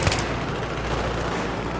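Battlefield 3 campaign gunfire: a continuous barrage of booming shots and rattling fire packed together, loud and close, lasting under two seconds with no talk.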